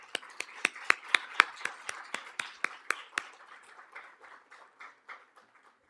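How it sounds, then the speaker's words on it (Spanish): A few audience members clap in sharp, evenly spaced claps at a Spanish-language talk with an ambassador, fairly close and clear at first, then fading to softer, scattered claps. "Un aplauso, por favor."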